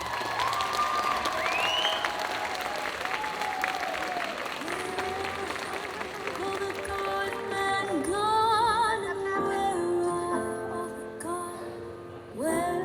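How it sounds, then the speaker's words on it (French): Applause at a cosplay contest during the Carolo Game Show 2022, clapping under loud music with sung melody lines, the music dominating and the clapping thinning toward the end. "Un tonnerre d'applaudissements pour Axel Holmes Cosplay"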